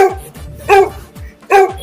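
A dog barks loudly and close by in Pratapgarh, Uttar Pradesh, giving sharp single barks in quick succession, with no talking.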